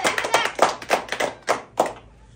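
A group of family members clapping during a halwa challenge game at home, heard as about nine close, loud hand claps in an uneven rhythm over two seconds, with no speech.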